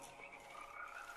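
Cartoonish frog croaking in the video game GNOG, a short, steady croak heard alone.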